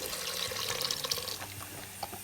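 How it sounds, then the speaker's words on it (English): Beef broth boiling in an Instant Pot for pot roast gravy, a steady close bubbling and hissing wash with small pops throughout, with no voices. "Broth is boiling like crazy."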